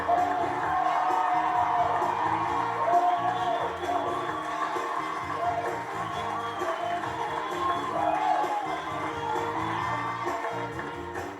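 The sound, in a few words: studio audience applause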